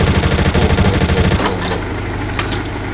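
An MP series submachine gun fires in a tank survival game, with a loud, rapid, evenly pulsing burst of close shots that stops after about a second and a half and gives way to a steady engine-like rumble.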